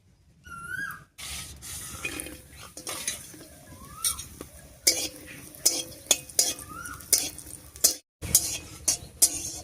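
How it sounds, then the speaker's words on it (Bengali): Lentil dumplings (dal bori) fry in mustard oil in a wok amid a low sizzle, punctuated by scattered spoon scrapes and clinks against the metal, a brief pause partway through. "এবারে কড়াইয়ে সর্ষের তেল দিয়ে ডালের বড়ি কটা ভেজে নিচ্ছি"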